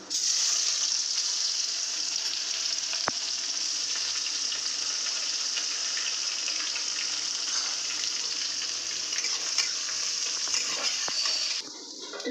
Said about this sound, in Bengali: এলাচ দারচিনি লবঙ্গ সব ফোড়ন দিয়ে দিলাম এখানে দিয়ে দিলাম পেঁয়াজ কুচি